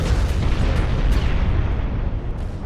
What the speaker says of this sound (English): 3 torpedo hits.